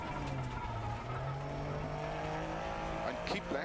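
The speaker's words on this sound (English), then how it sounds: "I've got a puncture." A rally car with a punctured tyre speeds along a stage in DiRT Rally 2.0, its engine droning steadily with tyre scrabble and a rhythmic rattling knock, while a voice talks over it.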